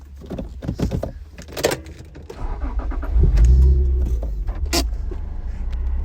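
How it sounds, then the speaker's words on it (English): A 1996 Acura NSX-T is started from inside, with clicks and a door or window sound before the engine catches and settles into a low, steady idle rumble. "So I'll start it, and we'll give the engine a listen as well as the"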